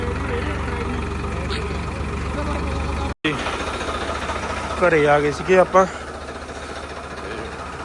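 A Holland tractor engine idles at a low, steady rumble, with a brief cut partway through, while people talk nearby.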